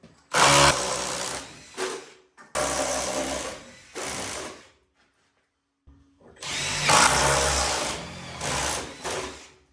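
A power drill bores holes for PEX plumbing during a kitchen build, whining in three loud bursts of a few seconds each, separated by short pauses and one longer silence.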